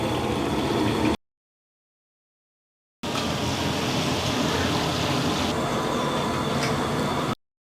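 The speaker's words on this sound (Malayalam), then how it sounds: "നമുക്ക് നമ്മുടെ ചിക്കൻ ഇങ്ങനെ കുറേശ്ശെ കുറേശ്ശെ ഇട്ട് കൊടുത്ത് നമുക്ക് മുഴുവൻ വറുത്തെടുക്കണേ" Chicken pieces deep-frying in oil in a large kadai: steady, loud, dense sizzling and bubbling, heard in two stretches broken by a pause of silence.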